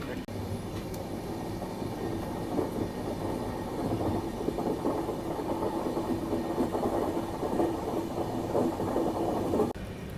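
Garib Rath Express on the Bengaluru–Thiruvananthapuram run, a steady, unbroken rumble of the moving train that holds at an even loudness throughout.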